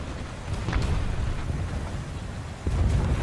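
A muffled, booming tank explosion in War Thunder rolls out with low rumbling, followed moments later by a second heavy burst, set against a constant noisy background.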